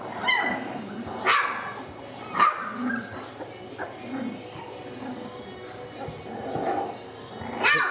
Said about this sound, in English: They're starting to bark, they're starting to play.